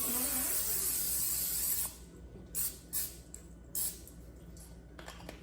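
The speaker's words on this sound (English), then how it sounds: "we're going to need to spray the pan" A steady hiss of cooking spray onto a baking pan for about two seconds, then stops, followed by a few faint clicks and taps.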